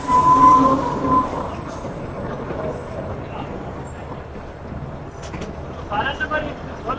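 The Awam Express passenger train rolls on rails between Rawalpindi and Lahore, a loud steady wheel rumble and rattle heard from inside with a faint squeal, as people talk.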